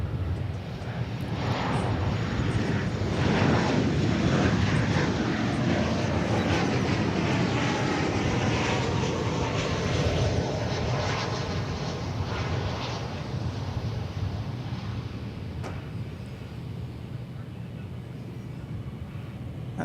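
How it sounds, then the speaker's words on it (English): An American Airlines Boeing 737-800 on its landing at DFW Airport gives a loud, steady jet roar that swells early and then slowly fades across the whole stretch, heard without any talk. "There's a landing of American Flight 2569 to or from Kansas City. A 737-800."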